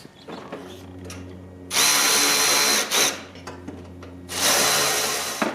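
A power drill driving bolts into bumper brackets on a 1990 Honda Civic Si EF9, with two long, loud whirring bursts and a brief blip between them, close up, followed by quieter handling noises.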